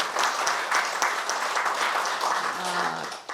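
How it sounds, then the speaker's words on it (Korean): Applause at a National Assembly emergency forum marking two years since the Sewol ferry disaster, a steady wash of clapping across the hall, with a voice briefly audible near the end. "여러분 모두 이 세 분께 뜨거운 박수를 좀 보내주시기 바랍니다"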